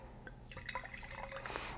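Oaked California Chardonnay pours into a wine glass with a soft, continuous trickle and a few faint splashy drips, quiet and close, with no talking.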